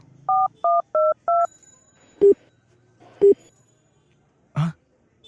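Touch-tone keypad beeps of a mobile phone being dialed: four quick evenly spaced tones, then three single spaced beeps, clear and close with no talk over them.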